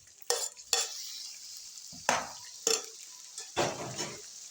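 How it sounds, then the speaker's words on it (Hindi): Chopped tomatoes hit a pan of sizzling bhindi chicken, with sharp bursts of hiss and stirring scrapes arriving in several separate spurts over a low steady fry. "अब हम इसमें डालेंगे टमाटर।"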